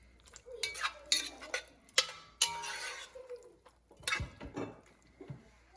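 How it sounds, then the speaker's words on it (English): Pasta gets mixed with parsley and cheese in a pan off the heat, with a utensil clinking and scraping against metal in irregular bursts alongside soft wet stirring, close and fairly quiet. "Mix it up."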